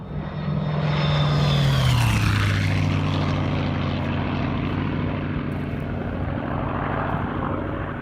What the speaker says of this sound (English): This plane made some super trippy smoke vortices.